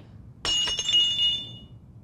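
A porcelain figurine of a Chinese lady falls and smashes, one sharp close crash followed by bright ringing clinks of fragments settling, heard alone with no talking.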